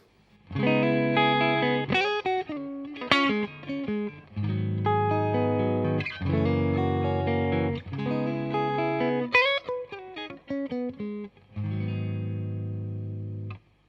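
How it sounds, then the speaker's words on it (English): A clean Fender Stratocaster electric guitar plays sustained chords and short picked phrases through a Fender Deluxe Reverb tube amp, warm with a touch of reverb, with no voices. "this is my Strat going through my Fender Deluxe Reverb"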